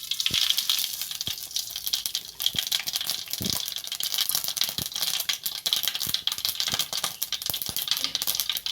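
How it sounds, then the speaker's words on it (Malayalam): Mustard seeds splutter and pop in hot oil for a leaf thoran, a steady crackling sizzle with frequent sharp pops, close and fairly faint, with no talk. "കടുക് ഇടുന്നുണ്ട്."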